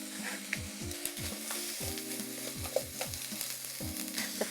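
Daikon radish sautéing in a pot before soybean sprout and radish soup is made, a soft steady sizzle under repeated scraping stirs, with a short, sharp clink partway through and no talking.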